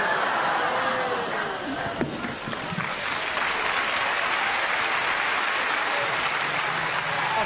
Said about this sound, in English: Easiest applause I've ever heard